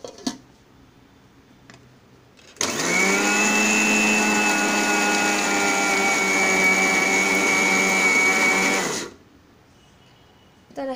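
A kitchen mixer grinder blends garlic cloves with ground peanuts for peanut chutney. After a quiet start, a loud, steady, high motor whine runs for about six seconds, then cuts off abruptly into near silence.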